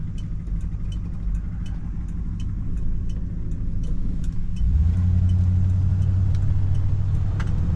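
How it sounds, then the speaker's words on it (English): A 1970s Ford car drives along with a steady engine rumble inside the cabin, and the engine note deepens and grows louder about halfway through as it pulls away. "Great day to take this thing for a drive."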